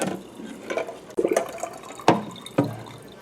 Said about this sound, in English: Then I take them over and I drain out the hot water.